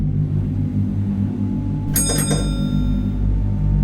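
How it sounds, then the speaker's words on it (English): An old analog stop request bell on a bus rings once in a short bright burst of a few rapid strikes, loud over the steady low engine rumble of the moving vehicle. "the stop request bell goes. And it's an old bus, it's quite an old analog bell."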